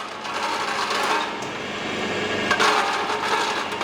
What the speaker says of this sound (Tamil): நம்ம இப்போ வந்து இந்த மிஷினில் வந்து கடலையை போட்டு காமிக்க போகிறோம்